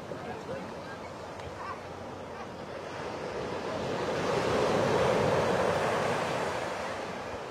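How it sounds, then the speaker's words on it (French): Sea waves wash and crash against rocks on the seafront at Pornichet on an October day, a continuous broad roar that swells louder midway, with wind buffeting the microphone. "Les vagues qui s'écrasent sur les rochers."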